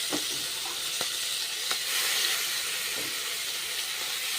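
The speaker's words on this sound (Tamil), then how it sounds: "எண்ணெயில் வந்து ஒரு ரெண்டு நிமிஷம் வதக்கலாம்" Thuthuvalai leaves hitting hot oil for rasam give a steady close sizzle and hiss throughout, with a few sharper crackles and pops along the way.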